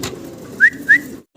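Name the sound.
pigeons at a farm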